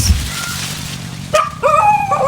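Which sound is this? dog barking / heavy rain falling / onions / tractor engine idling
dog barking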